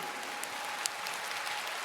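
Steady applause from a large audience at a fan festival stage event in Berlin fills the whole moment, a dense even wash of clapping with no voices on top.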